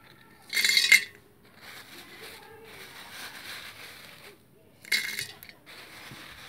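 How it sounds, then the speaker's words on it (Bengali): Small pebbles tipped into a plant pot during repotting, landing in two bright clattering bursts with a quieter rattle of stones between them, close and fairly loud. "দেখতে পাচ্ছেন আমি কুঁচো কুঁচো যে পাথর আছে ওগুলোকে আমি দিতে থাকছি"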